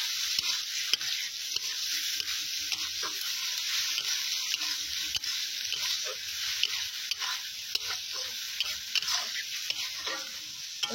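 A spatula stirs egg curry in a hot pan, giving a steady sizzle with soft scraping and shuffling throughout, moderately faint and without talk.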